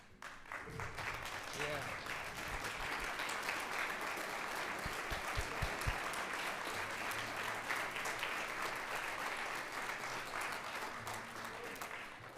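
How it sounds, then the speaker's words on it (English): Audience at a school band and orchestra concert breaks into sustained, full applause that carries on steadily for the whole stretch, with a few voices and brief low sounds mixed in beneath the clapping. "we can give you all a big round of applause"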